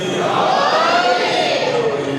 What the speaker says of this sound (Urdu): ہاتھ بلند کر کے باز بلند نعرے حیدری